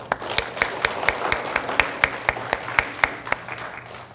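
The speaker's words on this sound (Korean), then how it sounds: "격려의 박수 드리죠." A church congregation claps to welcome newcomers at a Sunday service, a steady run of brisk, evenly spaced claps with a soft crowd wash beneath, fairly close and moderately loud, with no talking.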